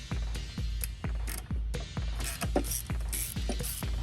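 A ratchet removing intake bolts on a GMC Acadia, loud close rapid clicking in repeated strokes with a metallic rasp, steady rhythm throughout, no talking.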